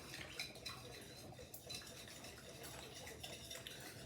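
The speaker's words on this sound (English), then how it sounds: "I've got the Danish whisk out, and I'm just gonna whisk this in" A Danish whisk stirs sourdough starter into water in a bowl, giving a steady, close wet swishing with light metallic clinks throughout.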